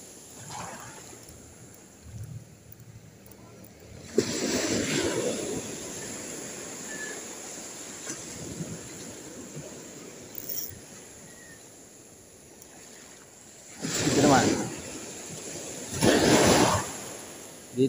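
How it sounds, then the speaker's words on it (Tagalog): Waves breaking on a shore at high tide during a windy northeast monsoon, with fishing going on nearby: steady surf wash with two louder surges late on. "Dito lang medyo mahina yung salpak ng alon."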